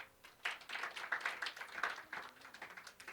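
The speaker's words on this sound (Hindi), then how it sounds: "तालियां बजाओ थोड़ी बहुत।" A group of students claps together during a quiz show session, a brief burst of dense, fairly close hand claps rising and tapering over a few seconds, with no talking during it.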